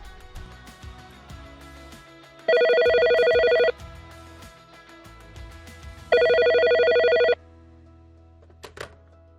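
A telephone rings twice while a call is being placed. Each burst is loud and electronic and lasts about a second, with quiet gaps between them and a brief click near the end.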